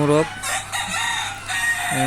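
Roosters crow and hens cluck at a backyard native-chicken farm, a loud crow opening the clip and another starting at the end, with softer clucking and bird noise filling the gap between.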